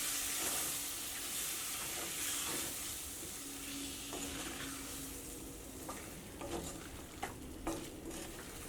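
Tomatoes fry gently in a pan over a low flame for a tomato fry curry, giving a steady soft sizzle and hiss with occasional light clinks of a stirring utensil near the end.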